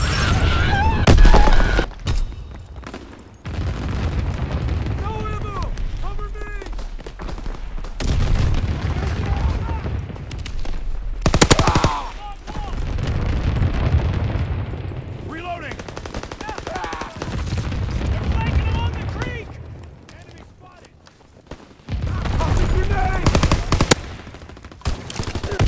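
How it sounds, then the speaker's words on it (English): Call of Duty: WWII gameplay with anti-aircraft fire and explosions: loud rapid gunfire bursts and heavy booms recur across the clip, with in-game voice callouts between them. "Anti-aircraft burst has commenced."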